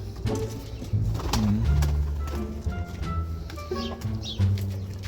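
Pigeons cooing in a backyard coop shared with chickens and a large rooster, low rolling coos repeating close by across several seconds, with a bird call or two and a little background noise.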